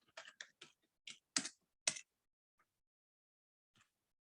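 Computer keyboard typed on in short bursts of quick key clicks, fairly quiet, with gaps between the clusters and one isolated tap near the end.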